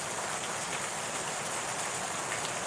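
Steady rain falls on a rainy morning, an even, continuous hiss of drops on surfaces close by, with no voices over it.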